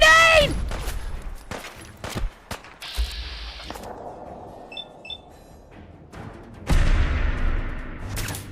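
Gunfire from the player in Fallout 4 comes as a series of sharp, loud shots and bursts in uneven rhythm, mixed with mechanical clicks and game effects, while someone talks over it.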